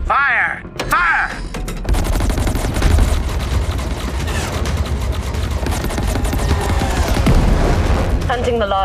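Sustained gunfire and heavy explosions from a space combat sequence in the video game Chorus on PS5, a loud dense barrage of rapid shots and booms with a voice speaking over the start.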